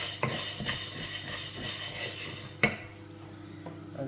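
Black urad dal roasting dry in a pan while being stirred, making close gritty scraping and light clinks of a spoon against metal, with one sharp knock near the end.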